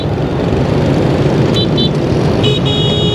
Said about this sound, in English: As you can see, it gets a bit crazy here with traffic and vibes and stuff like that.